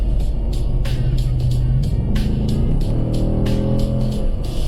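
A 2026 Ford Mustang GT with the 10-speed automatic accelerating hard, its engine revving up loud and close with rising harmonic sweeps as it shifts through gears, a person speaking briefly over it.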